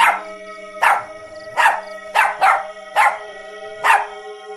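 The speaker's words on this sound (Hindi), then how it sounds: "जोर जोर से भौंकने लगता है" A dog barks loudly and repeatedly, around seven sharp barks in a steady rhythm over a low constant hum.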